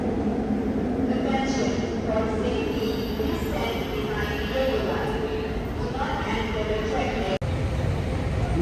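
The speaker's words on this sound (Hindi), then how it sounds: "Masjid जमक metro station MRT station." A metro train at Masjid Jamek MRT station in Kuala Lumpur, with a continuous, close rumble and rolling rail noise under nearby voices, cut by a brief dropout near the end.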